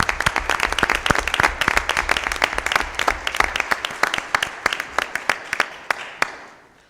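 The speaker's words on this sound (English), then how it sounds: "Round of applause for Larry." A group bursts into applause, steady clapping from several people that gradually thins out and fades to a few last claps.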